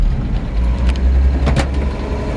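A 1950 Chevrolet 3100 pickup truck backs up in reverse, its engine a steady, close, low rumble with small shifts in level and no voices over it.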